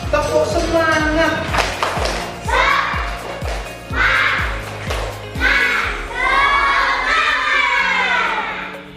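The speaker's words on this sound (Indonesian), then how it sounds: "Oke, tepuk semangat." Schoolchildren in a classroom do a rhythmic spirit clap, quick sharp claps in a steady pattern mixed with loud group chanting and shouted voices.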